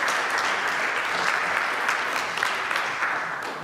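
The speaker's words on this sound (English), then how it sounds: "Give her another applause." An audience at a church talk by Rev. Cliff Rubin applauds a woman, dense steady clapping throughout that tapers slightly at the end.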